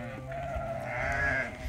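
Sheep and lambs bleat at a shepherds' flock, ewes with their young: one close, drawn-out wavering bleat rises in pitch before fading, over a low background hum.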